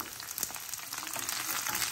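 Garlic and about fifteen chillies sauté in a pan for a spicy garlic chutney, giving a dense, steady close sizzle that rises slightly toward the end, with no talk.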